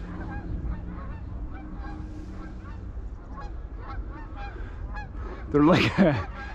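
Several geese honk loudly overhead near the end, a burst of overlapping calls rising above a steady outdoor background.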